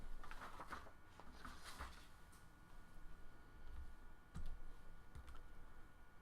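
Calculator keys are pressed in a quick run of soft, faint plastic clicks over low room noise, with a few firmer taps spaced out afterward.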